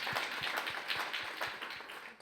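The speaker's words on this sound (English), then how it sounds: "give an applause" Faint, distant applause from an audience at a talk on women's empowerment in the workplace, a thin patter of individual claps in a loose regular rhythm that tapers off at the end.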